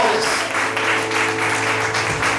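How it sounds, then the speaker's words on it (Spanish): A church congregation claps in a steady, continuous round of applause that stays full and even throughout, with a faint hum beneath it. "Dale un aplauso al Rey de Reyes y Señor de señores."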